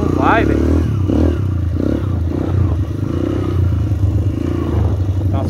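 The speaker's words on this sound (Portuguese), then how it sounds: "Acelera, a moto não vai" A motorcycle labours in deep sand on a riverbank trail, its engine revving and straining close by while loose clatter and scraping mix in, with people talking over it.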